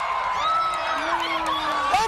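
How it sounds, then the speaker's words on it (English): A crowd cheers at a solar eclipse as the clouds clear, steady whoops and high shouts over a constant murmur. A voice rises above the crowd. "Then all of a sudden they're cheering."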